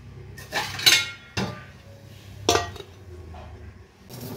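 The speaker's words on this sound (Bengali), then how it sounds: "চলো চটপট এই কয়েকটা বাসন পড়ে আছে, এগুলো মেজে নিই" Utensils and dishes clink and clatter while being washed by hand, several sharp metallic knocks spaced irregularly, loud and close, with quieter handling between.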